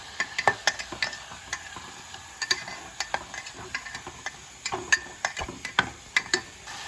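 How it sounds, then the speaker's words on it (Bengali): Mutton with garlic and ginger paste and spices being fried in a pan, heard as a low sizzle broken by frequent sharp clicks and scrapes of a spatula stirring against metal, close and without speech. "আগে এটাকে ভাজা ভাজা করে নিচ্ছি, মানে একটু কষিয়ে নিচ্ছি"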